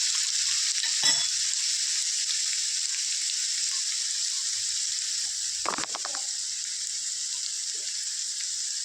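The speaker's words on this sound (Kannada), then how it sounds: "ಇದೆಲ್ಲ ಹಸಿ ವಾಸನೆ ಹೋಗೋವರೆಗೂ ಫ್ರೈ ಮಾಡ್ಕೋಬೇಕು" Crushed ginger, garlic and coriander frying in oil, a loud, continuous bright sizzle close up with a couple of brief stirring scrapes and no speech.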